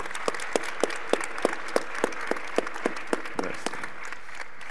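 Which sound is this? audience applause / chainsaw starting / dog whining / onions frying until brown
audience applause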